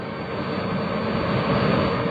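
A jet-propulsion gas turbine aircraft engine drones in a steady, loud, broadband roar that swells slightly and holds without pause.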